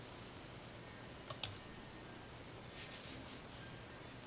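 A computer mouse gives two quick, faint clicks in close succession, with nothing else but a quiet steady room hiss and no voices.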